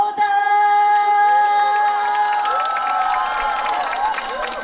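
An audience claps and cheers at a live Korean singing show, with crowd noise and scattered claps building over sustained musical tones that ring through the whole stretch.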